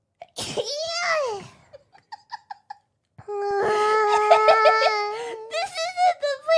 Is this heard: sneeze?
yes